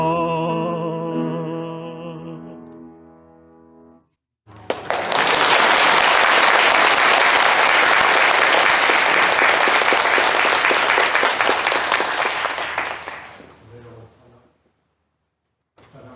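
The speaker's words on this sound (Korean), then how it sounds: "우리 두 분께 뜨거운 박수 한번 다시 보내주십니다" Enthusiastic applause from a church congregation for an elder and the accompanist, a dense, loud wash of clapping lasting several seconds before fading out, preceded by a sustained organ-like chord.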